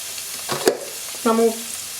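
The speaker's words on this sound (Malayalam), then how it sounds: "നമ്മളുടെ വെജിറ്റബിൾ ഇവിടെ നല്ലതുപോലെ ഫ്രൈ ആയിട്ടുണ്ട്" Vegetables fry in a pan for vegetable semolina upma with a steady, close sizzle, broken by a sharp clatter of stirring and a brief tonal squeak or scrape.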